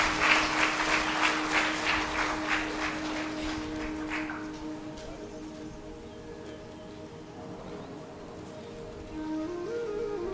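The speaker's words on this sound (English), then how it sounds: "So please give a big round of applause." Audience applause at an ICAR-NAARM 48th Foundation Day award ceremony, a burst of rhythmic clapping for the first few seconds that fades away, leaving a quiet hall with a faint steady hum.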